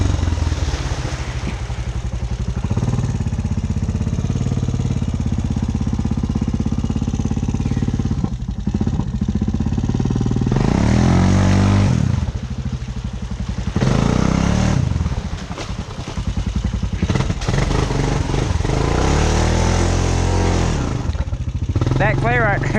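Honda Recon four-wheeler ATV riding through a creek with clay, its engine a loud, steady rumble that rises and falls as it revs and labors, with someone talking over it.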